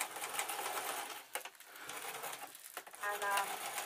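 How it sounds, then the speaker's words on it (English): A domestic sewing machine stitching a small scrap of cloth with the feed teeth barely catching, making a steady close whirring hum that dips briefly twice before running on. "only a quarter of the teeth are catching the cloth, the teeth on the sewing machine, so it's kind of complaining a bit"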